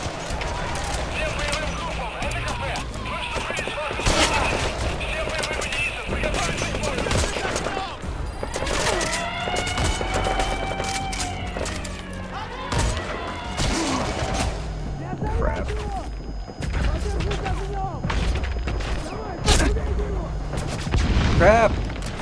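Gunfire in the video game Metal Gear Solid V, a dense stream of shots and booms with sniper fire in the mix, continuing over the game's background sound while a player talks.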